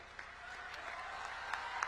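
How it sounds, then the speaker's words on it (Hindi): A crowd claps at an outdoor election rally in Paloura, Jammu, where Amit Shah is speaking; the applause is faint and distant, a thin continuous patter with a few louder claps. "जोर से ताली बजाना"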